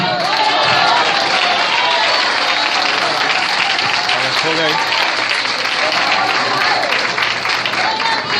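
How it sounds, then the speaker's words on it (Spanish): A large church congregation applauding loudly and continuously, a thick, even roar of clapping with crowd voices mixed in throughout. "Denle un aplauso al Señor."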